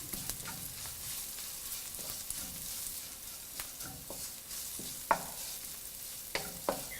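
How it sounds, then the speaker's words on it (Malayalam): Turmeric powder and crushed dried chili are sautéed with onion over a low flame for a tindora stir fry, a quiet, steady sizzle with intermittent spatula scrapes and a few sharper knocks against the pan, no one speaking. "മഞ്ഞൾപ്പൊടി, ചതച്ച വറ്റൽമുളക് എന്നിവയിട്ട് നന്നായിട്ട് വഴറ്റുക"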